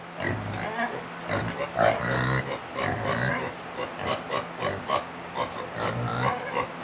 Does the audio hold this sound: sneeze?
no